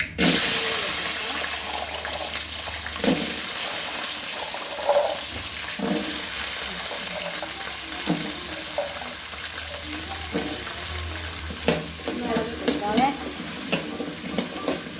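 Shallots sauté in coconut oil with curry leaves for beef curry, a loud continuous sizzle with scraping stirs and occasional bursts of spattering, close and steady throughout.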